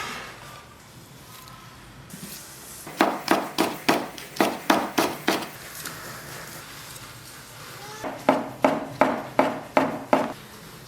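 A knife cuts lean pork, egg pancake, potato and green and red peppers into strips on a board. Two runs of quick, even, sharp chops ring out up close, separated by a quiet pause.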